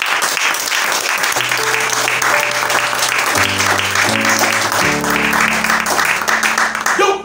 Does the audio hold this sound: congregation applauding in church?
yes